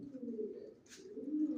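Racing homing pigeons in a loft coo softly in low, rolling throaty phrases, close and faint, with a brief higher rustle in the middle.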